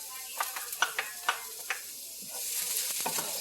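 Garlic hitting hot oil in a pan for a pork and bell pepper stir fry, a series of short crackles and scrapes as it is tossed in, then a steady soft sizzle.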